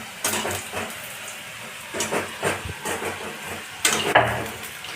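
Oil getting hot in a pan in a home kitchen, soft hissing and sizzling bursts over a low background, with a few sharper clatters of cookware near the end.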